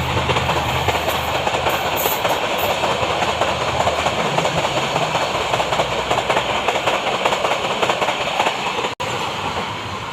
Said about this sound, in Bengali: গাইস এখানে এখন ট্রেন আছে।